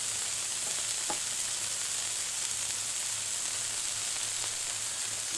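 Beef burgers sizzle steadily on a Blackstone flat-top griddle, a constant close frying hiss with no voices, a faint low hum underneath and one brief tap near the start.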